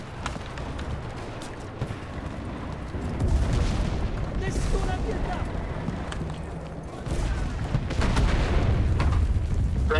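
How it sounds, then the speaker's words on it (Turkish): Bombing in the war video game Enlisted: heavy booming explosions and rumbling artillery-like blasts, loud and dense, surging in waves with crackling gunfire around them, while a player talks over the din. "Ha bombalıyorlar bunu."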